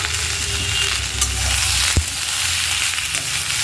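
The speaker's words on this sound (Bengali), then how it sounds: "আমি এইটা দিয়ে মশলা দিয়ে খুব ভালোভাবে ভাজাগুলোকে" Fried vegetables sizzle in a pan with a ginger-garlic-cumin masala paste, a dense continuous hiss with a single clack of the spoon partway through, close and fairly loud, no talk.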